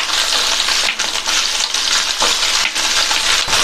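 Brinjal pieces fry in a pan over a medium flame with a loud, close, bright sizzle. Brief dips and scraping stirs break up the hiss at irregular moments, and no one speaks.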